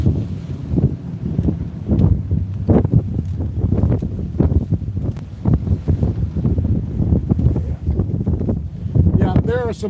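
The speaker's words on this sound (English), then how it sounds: "I've had sustained winds 17, 18. Oh man, you can hear them" Strong wind of about 17 to 18 mph on Oneida Lake buffets the microphone in continuous gusty blasts, with whitecapped 3 to 4 foot waves sloshing and rushing around; no voices.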